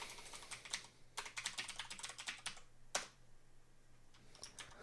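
Bursts of rapid computer keyboard typing in a quiet room, quick clustered keystrokes with short pauses and one sharper key hit, fairly faint over a low steady hum, no talking.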